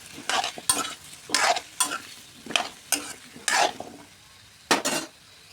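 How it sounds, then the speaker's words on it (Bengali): Sweet pumpkin with green chillies and spices is stirred in a pan, a spatula scraping in repeated, irregular strokes over a soft background sizzle, close and clear with no talking. "নাড়াচাড়া করে মশলার সাথে মিক্স করে দেবো।"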